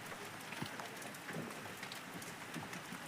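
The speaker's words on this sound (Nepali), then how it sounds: "पानी पर्यो, पानी पर्यो," Steady, faint rain falls as a soft continuous patter with scattered individual drops, no voices.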